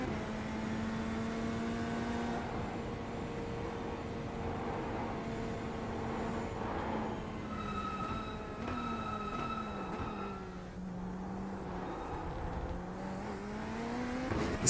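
A Corvette GT3 race car engine heard from the cockpit in a racing game at Sebring, a steady droning tone shifting pitch through gear changes and revs, continuous and fairly close with no talk.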